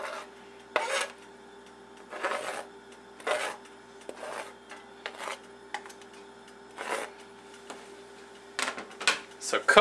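Flat of a kitchen knife blade scraping chopped onion and garlic off a board into a pan, heard as several separate rasping pushes, each short burst spaced a second or two apart against a quiet kitchen background.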